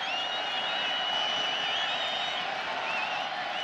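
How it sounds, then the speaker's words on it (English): Loud football stadium crowd during a 2008 Colorado Buffaloes versus Iowa State Cyclones college game, a steady roaring wash of noise on third down with no break, continuous and dense throughout. "Third down and 9, and the crowd has gotten loud."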